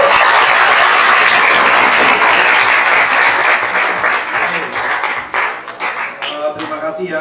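A university guest-lecture audience gives warm applause: loud, dense clapping from many hands that holds steady, then thins into scattered separate claps toward the end.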